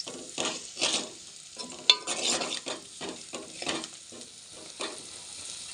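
A spoon stirs fried onions with turmeric in a pan for an egg curry, with repeated scraping strokes over a steady sizzle, close and moderately loud.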